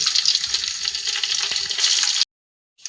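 Mutton curry masala sautéing in a pan gives a steady, busy sizzle with small crackles for about two seconds, then cuts abruptly to near silence.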